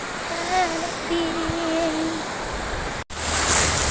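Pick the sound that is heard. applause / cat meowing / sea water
sea water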